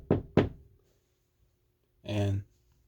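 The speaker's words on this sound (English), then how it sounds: "they hear a knock" Two sharp knocks on a door in quick succession, close and loud, followed by silence and then a brief muffled thump a moment later.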